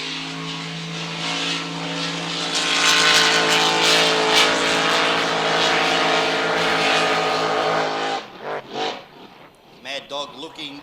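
The racing speedboat Maddog exits a bridged corner at Adelaide Speedboat Club with a loud, sustained engine roar that peaks and holds, then cuts away near the end. Commentary talk runs over the top.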